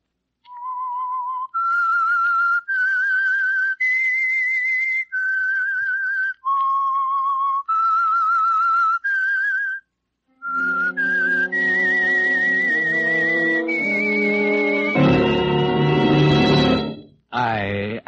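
A clear, melodic whistle carries a slow, eerie tune of sustained notes, then orchestral chords join and swell to a loud finish.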